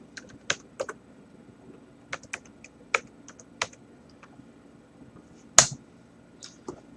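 Sparse keystrokes on a computer keyboard as a web address is entered, faint isolated clicks in an irregular rhythm with one louder tap, close up over quiet room tone.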